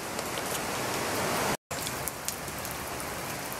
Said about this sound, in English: Very rainy early morning, but in the shop it's dry.